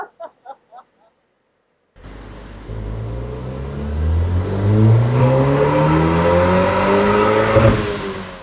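A VW MK8R Golf R fitted with a resonated exhaust, strapped down on a dyno, revs up loudly after a short pause, its engine note climbing steadily in pitch through a long sustained pull.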